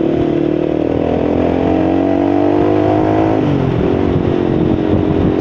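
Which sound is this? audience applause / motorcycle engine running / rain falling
motorcycle engine running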